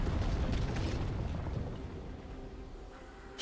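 A turret collapses in League of Legends with a loud, rumbling crash that fades over a few seconds into a dull, settling roar, with no voices over it.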